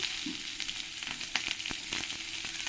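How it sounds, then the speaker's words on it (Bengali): Chopped onion fries in hot oil with cumin seeds, dried red chillies and bay leaves, giving a steady close sizzle broken by light scrapes and clicks of stirring, with no voices. "পেঁয়াজটাকে আমি লাল লাল করে ভেজে নেবো"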